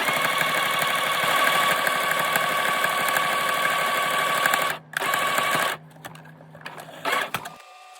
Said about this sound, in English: Sew it so that it forms a tube.